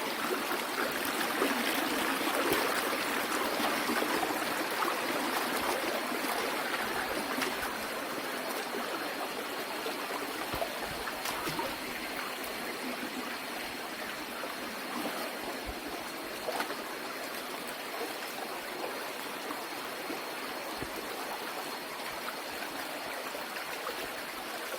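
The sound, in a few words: river stream flowing between rocks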